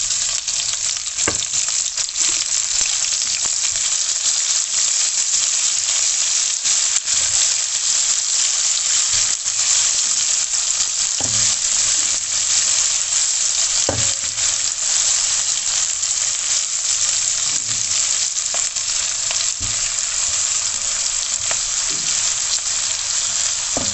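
Chopped medium onion softening in a hot pan gives a loud, steady sizzle throughout, broken by periodic spatula scrapes and knocks as it is stirred.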